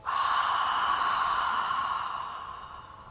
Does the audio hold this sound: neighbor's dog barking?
no